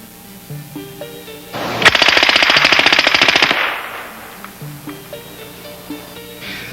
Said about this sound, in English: Both weapons are firing the same 9mm cartridge.